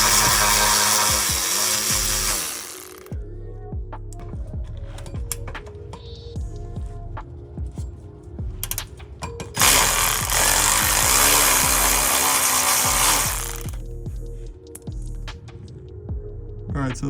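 A power tool unscrews the clamp joining the downpipe to the midpipe on a B58 exhaust, running in two loud whirring bursts with quieter clanks and tool handling in between.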